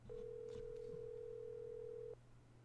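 A telephone in the Nancy Drew: Secret of the Scarlet Hand video game gives one steady, clean electronic ringing tone lasting about two seconds over a faint background hum, then stops.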